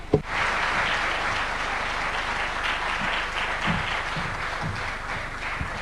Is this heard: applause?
yes